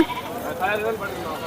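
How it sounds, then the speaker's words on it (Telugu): A goat bleats close by at a sheep and goat market in Gudur, a wavering cry lasting about a second over faint background noise. "ఇక్కడ ఒక మేకలు కట్టు ఉన్నాయి"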